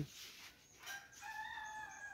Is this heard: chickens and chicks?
yes